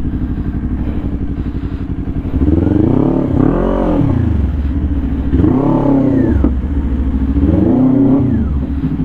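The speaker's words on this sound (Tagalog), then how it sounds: "Naririnig ko yung motor." Loud, close engine of a Kawasaki Ninja 400 sport bike in traffic, idling with a steady throb and revved in three distinct rising-and-falling blips.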